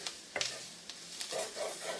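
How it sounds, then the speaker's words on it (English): A spoon scrapes and stirs onions across the bottom of a pan for a roux, soft intermittent scrapes over a gentle sizzle, close and quiet with no talking. "you're going to scrape the bottom of your pan to get those little chunks and stuff up, kind of mixed in with your roux"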